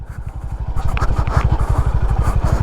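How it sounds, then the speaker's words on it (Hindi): A Honda Highness CB 350 single-cylinder motorcycle rolls in third gear at about 30 km/h. The engine thumps out a steady, loud, evenly spaced beat, with wind noise over it. "अब देखो, थर्ड गियर में डुक डुक करके चल रहा हूँ 30 की स्पीड पे"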